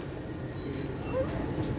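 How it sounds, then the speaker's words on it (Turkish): A metro train pulls into an underground station, a low rolling rumble with faint wheel squeal rising, heard close in a reverberant space. "Trenin sesi geliyor."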